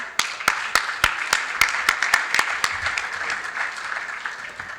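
A small crowd applauds at a youth forum closing ceremony, scattered sharp claps over a soft wash of clapping that gradually thins out.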